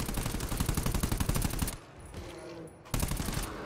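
Fast, evenly spaced automatic gunfire from the video game GTFO rattles out close and steady, stops for about a second of quieter game sound, then starts again.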